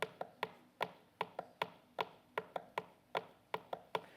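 Sharp percussive taps, likely struck by hand, interlock in a three-against-two polyrhythm, with accented beats recurring in a steady layered pattern. The hits are close and dry, with no voices.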